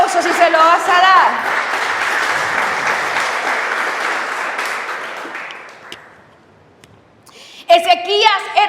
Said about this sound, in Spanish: Ezequías, dale ese fuerte aplauso si se lo vas a dar.